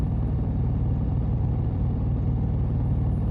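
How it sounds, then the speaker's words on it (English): Steady low car engine hum while driving at night, a constant smooth rumble with no breaks or voices. "Engine humming, heart steady."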